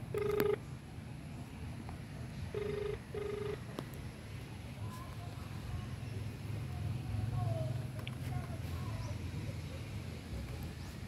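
A mobile phone rings with short bursts of electronic tones near the start and again around three seconds, heard over a low rumble of traffic while a Lalamove rider waits on the street.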